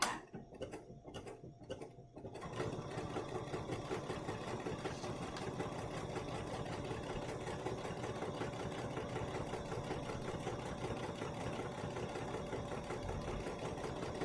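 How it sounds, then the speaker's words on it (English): A Bernina sewing machine stitches a pattern set to a repeat of one: a few brief clicks come first, then a steady, rapid, close mechanical whirring and ticking runs to the end. "I'm going to go ahead and set this up for a pattern repeat of 1, and I'm going to stitch it"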